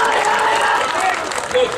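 A crowd breaks into loud, dense applause for Mohibul and his team, a steady wash of many hands clapping with voices mixed in, close and sustained.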